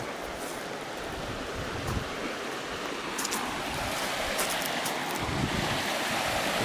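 A creek running so full and fast it roars like a small river, heard outdoors near statuary and a watercress bed as a steady broadband rush of water with light wind, no talking.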